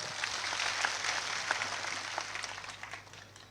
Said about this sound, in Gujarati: એકવાર જોરદાર તાળીઓ પાડીએ